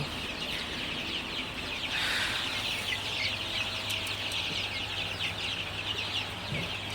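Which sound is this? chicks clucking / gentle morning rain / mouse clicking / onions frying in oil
chicks clucking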